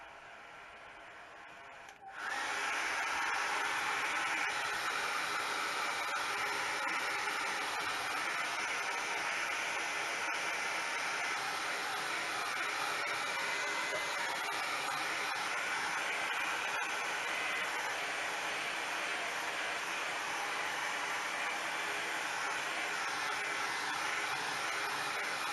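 A hair dryer switches on after a short quiet moment and blows steadily over a wet watercolor landscape painting, a loud, even whooshing hum that holds for the rest of the stretch.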